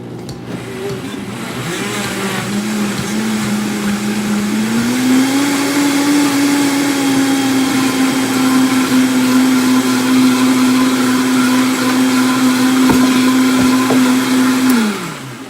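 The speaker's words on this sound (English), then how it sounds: "And then I blend with my Vitamix blender." A Vitamix high-speed blender roars loudly and steadily, its motor pitch climbing partway through and holding, then cutting off at the end.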